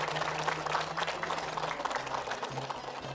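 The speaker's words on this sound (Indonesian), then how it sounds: "Sekali lagi tepuk tangan." Studio audience applauding on an Indonesian television religious talk show, a steady, fairly loud wash of clapping that fills the whole stretch, with a low hum underneath.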